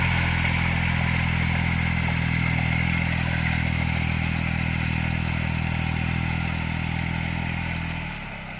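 A 20 hp walking tractor engine runs steadily, pulling a 1.4 m rotary tiller through a paddy field. The drone is loud and continuous, then eases off slightly near the end, and no one speaks.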